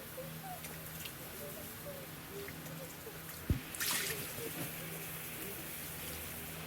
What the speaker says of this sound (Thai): ล้างด้วยน้ำสะอาดสักสองสามน้ำนะคะ เอาเลือดเอายางออกเลยค่ะ